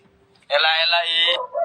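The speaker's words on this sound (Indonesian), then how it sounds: "Kucing santai banget." A single drawn-out cat meow, loud and close, lasting about a second after brief quiet, followed by a shorter trailing mew.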